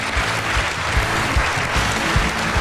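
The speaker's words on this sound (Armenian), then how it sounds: "Ծափարում ենք քեզ։" Studio audience applauding a guest on a television show, a steady dense wash of clapping hands that fills the room at full volume, with no voices over it.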